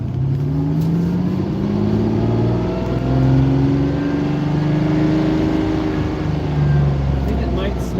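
Lamborghini Countach engine revving while driving on a cloudy day, a loud, close mid-pitched drone with rising and falling revs throughout and no talk.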